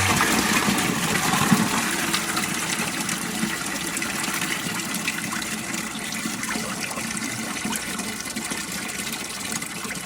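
Water gushing and splashing steadily through a rusty engine cooling system during a flush, a continuous loud rushing flow with no pauses.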